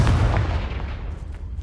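A Confringo blasting spell from Hogwarts Legacy bursts with a loud, close explosive boom, then a rumbling tail that fades over about a second and a half.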